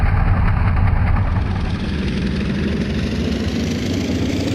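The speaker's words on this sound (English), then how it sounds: "we increase the engine speed to 2000 revolutions per minute" Antonov An-2 radial piston engine in a PC flight simulator, revving toward 2000 rpm: a loud, steady, dense engine drone that runs continuously and eases slightly after the first second.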